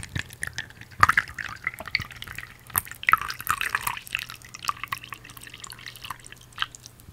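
Water drips onto a surface while acrylic paint is being prepared, a series of soft, irregular plinks and splashes, close and fairly quiet, with no talking.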